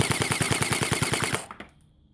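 A G36 V2 gel blaster firing in full auto, around fifteen rapid, evenly spaced shots in a fast rattling burst that stops abruptly, close and loud, with no one talking.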